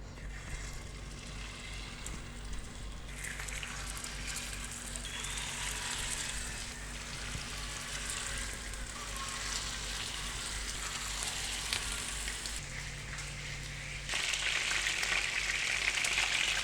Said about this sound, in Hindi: अब हम इसको शैलो फ्राई करेंगे।